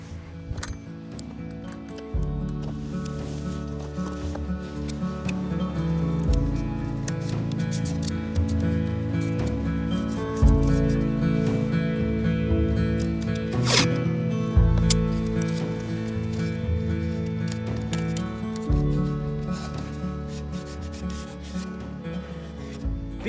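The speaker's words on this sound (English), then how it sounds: "I'm just going to take blue tape, cover them up on all my inside corners where I have exposed screws" Blue painter's tape is pressed and rubbed over exposed screws on the inside corners of stepdown footing forms at a mountain home build, making a continuous scuffing rub with a brief sharp crackle partway through.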